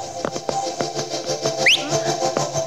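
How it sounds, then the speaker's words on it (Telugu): A person whistles a playful so-called love whistle, a quick rising-and-falling tweet lasting about a quarter second, heard amid faint clicks and low background hum. "ఏంటి ఆ విజిల్స్?"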